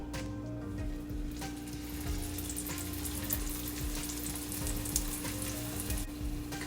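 Potato cheese pancake frying in a pan, a soft continuous sizzle and crackle with a steady low hum underneath, fairly quiet and close.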